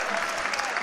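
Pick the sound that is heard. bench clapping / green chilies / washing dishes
bench clapping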